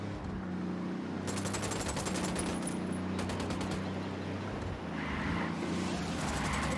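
Soldiers' gunfire in Ghost Recon Wildlands, rapid automatic bursts rattling in repeated volleys over a steady engine-like drone.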